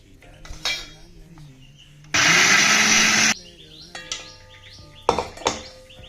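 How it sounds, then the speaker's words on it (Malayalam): A kitchen mixer grinder runs in one loud, steady burst of about a second, grinding breakfast batter, surrounded by clinking dishes and utensils before and after. "നമുക്ക് നന്നായിട്ട് അരച്ചെടുക്കാം"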